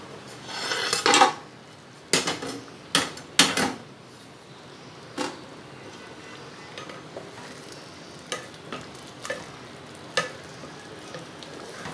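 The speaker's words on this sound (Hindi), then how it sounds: "इसे आपने लकड़ी के चम्मच से थोड़ा सा हिलाना झुलाना है" A wooden spoon stirs cooking Punjabi moong and masoor dal in a pot, giving scattered soft scrapes and knocks, a cluster of louder ones early and then fainter sporadic taps over a quiet simmering background.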